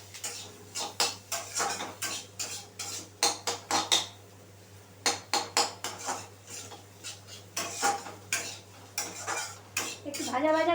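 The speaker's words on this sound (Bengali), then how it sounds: "একটু ভাজা ভাজা করে নিতে হবে পুরটাকে" A spoon clinks and scrapes steadily against a pan while sooji dosa filling with cumin and green chilli is stirred and fried, rhythmic metallic taps with a faint sizzle underneath, no talking.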